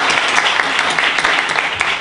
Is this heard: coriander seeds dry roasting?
no